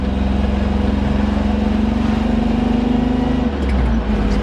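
A car engine that usually backfires pulls away from a low idle, giving a loud, steady drone with a constant tone from close by. Near the end the pitch dips and shifts.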